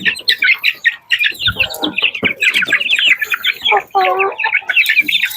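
Shamo and Texas gamefowl chickens cluck and call close by in a lively, overlapping run of loud, choppy vocalizations, with a few louder squawking bursts mixed in.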